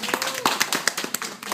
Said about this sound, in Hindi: देखो मोहित जी के लिए एक बार ताली बजाइए